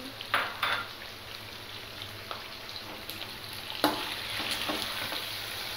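Tomatoes and green chillies frying in ghee for a home-style spinach and meat curry, a low steady sizzle with a few close clinks and scrapes of a spoon against the pot.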